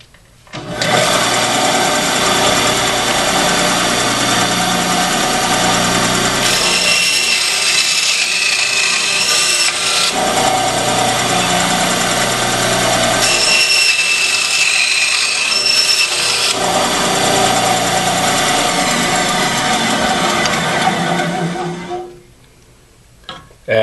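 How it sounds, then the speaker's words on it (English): A 10-inch bandsaw with a 1/8 inch, 15 TPI blade cutting kydex belt loops, its loud steady motor whine and blade hiss running continuously, briefly shifting in tone as the cut changes, then winding down at the end. "I'm using a 15 tooth per inch, 1/8 inch bandsaw blade on a 10-inch bandsaw"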